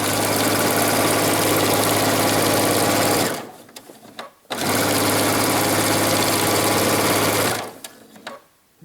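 A sewing machine stitches boning into a denim bustier in two loud, close, steady runs of rapid mechanical whirring, each stopping abruptly with a short pause between.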